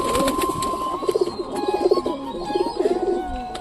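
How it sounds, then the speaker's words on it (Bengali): Pigeons coo in repeated throaty bursts at feeding time, close by and fairly loud, with faint chirps and a brief flutter of wings in the background. "তো এখন কবুতর গলাকে খেতে দেবো,"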